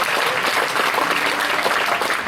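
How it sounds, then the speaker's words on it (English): A school audience at an annual prize distribution ceremony applauds a prize winner, with dense, steady clapping that fills the hall at an even level throughout. "Please give him a huge round of applause."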